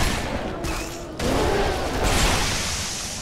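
Rapid gunfire from the Halo 3 video game fills the moment with a loud, dense, continuous barrage of shots and blasts.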